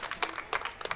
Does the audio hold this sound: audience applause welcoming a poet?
yes